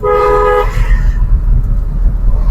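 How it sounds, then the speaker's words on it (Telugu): A single car horn honks loudly for about half a second during a driving lesson, followed by the low rumble of the car's engine driving on. "హారన్ చేయండి"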